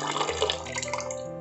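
Water splashes and trickles steadily for a moment into a clay pot of chicken biryani, a continuous liquid pour close by with no talking.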